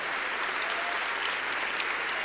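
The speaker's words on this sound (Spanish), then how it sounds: "A ver, démosle palmas fuertes a nuestro Señor." A church congregation claps loudly together, producing a dense, continuous roar of hand claps that fills the space evenly from start to finish with no voices on top.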